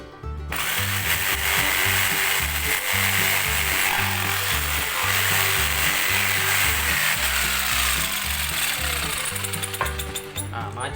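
A power jigsaw buzzes loudly and continuously, its motor chattering in a fast rhythmic pattern as it cuts through a small piece of wood.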